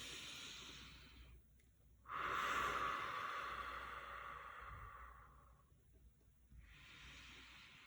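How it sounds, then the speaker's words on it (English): Slow, deep, audible breaths are taken during a guided relaxation, each a long airy inhale or exhale separated by quiet pauses, close to the microphone with no talking. "let's take 3 deep breaths together"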